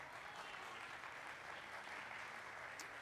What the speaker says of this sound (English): Yeah, you can applaud for them.